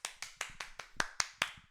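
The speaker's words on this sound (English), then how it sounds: "That deserved applause." Eight evenly spaced hand claps ring out at a steady, quick rhythm, close and fairly faint, with no other sound between them.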